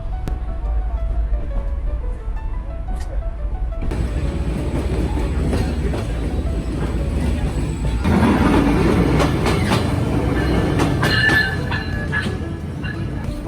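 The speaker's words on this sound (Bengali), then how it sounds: "সদর স্টেশন থেকে এখন ট্রেন ছেড়ে গেল ঢাকার উদ্দেশ্যে" A local train departing a station in Bangladesh rumbles and rattles along the rails with a steady clickety-clack that swells louder partway through as it picks up, heard close and continuous.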